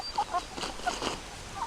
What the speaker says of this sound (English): heritage breed chickens.